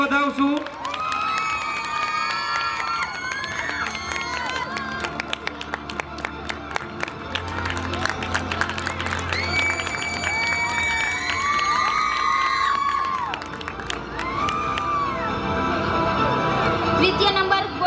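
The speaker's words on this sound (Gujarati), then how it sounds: "આપણે સૌ તાળીઓના ગડગડાટથી વધાવશું." A crowd at a nursing college ceremony for a new building opening and oath-taking applauds and cheers steadily, with clapping, children's shouts and whoops blending into a loud, sustained wash for the whole stretch.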